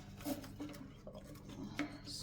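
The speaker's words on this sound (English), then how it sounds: "So I'm going to clean this out while I'm washing the pet dishes." Pet dishes being washed in a kitchen sink, quiet clinks and knocks of dishes and utensils with soft scrubbing and splashing, faint and close, with a voice briefly audible.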